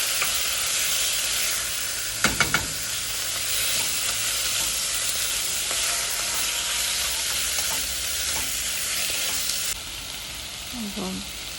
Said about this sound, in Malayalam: എന്നിട്ട് ചിക്കൻ ഒന്ന് 10 മിനിറ്റ് സിയർ ചെയ്തെടുക്കുക.